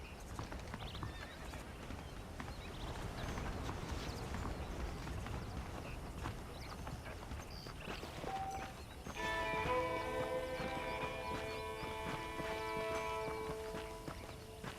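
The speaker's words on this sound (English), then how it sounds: "The horses are saddled up over here" Horses clip-clop and whinny in the Western game Red Dead Redemption, a steady near hoof rhythm over outdoor ambience, with a held musical tone rising in the second half.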